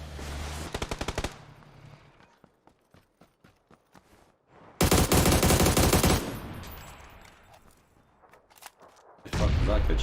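PUBG gunfire: rapid automatic bursts, single loud shots and long sustained volleys, close and harsh, separated by quieter gaps with scattered pops.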